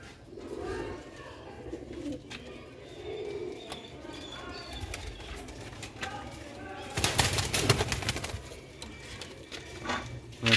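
Pigeons coo softly up close in a loft, with a sudden burst of wing flapping partway through and faint talking in the background.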